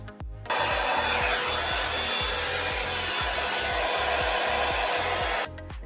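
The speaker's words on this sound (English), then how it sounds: "So right now I'm going to put it on high heat for a little bit." A Revlon brush blow dryer roars on high heat with a steady, loud whoosh and a pulsing motor hum, starting abruptly and switching off after about five seconds.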